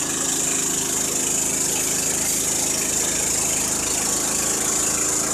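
Gasoline 15-horsepower Kohler Pro-15 engine on a Wood-Mizer LT15 sawmill idles steadily while sawing pine, a continuous even mechanical drone with a strong broadband hiss, close and unbroken throughout.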